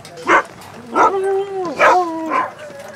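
Dogs give a few close, sharp barks mixed with whining, pitch-bending yelps as they wait for breakfast, in short bursts spread over a few seconds.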